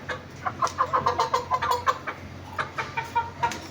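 Chickens clucking in quick repeated bursts, fairly close, with a low steady hum running underneath.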